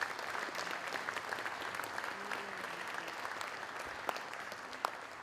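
Steady applause from parents and guests fills the room at a high school athletic awards night, a dense, even patter of many hands held at a constant level throughout.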